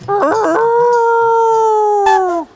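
A person imitates a dog's howl, a single long sustained wail that starts with a few wavering yips, holds steady, then slides down and cuts off, loud and close.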